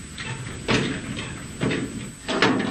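A locked door at an old prison in Vietnam being tried, three rattling thuds of the door against its lock spaced about a second apart, close and fairly loud.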